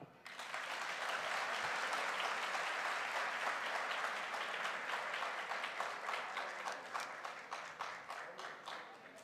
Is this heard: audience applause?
yes